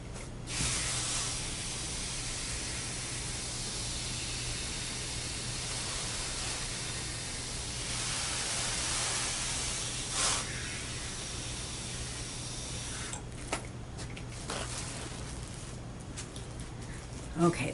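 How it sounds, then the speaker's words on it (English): A small handheld compressed-air sprayer hisses steadily for nearly the whole stretch, a continuous airy spray close by, with a few brief clicks and handling noises near the end while felt coasters are being worked. "This is a fairly small sprayer."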